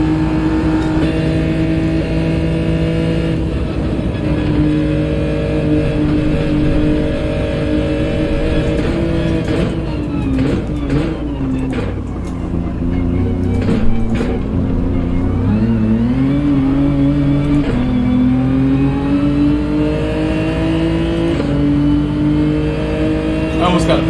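A race car engine in the Gran Turismo video game drones steadily throughout, with shifting pitch as it revs, brakes and accelerates, under occasional talk.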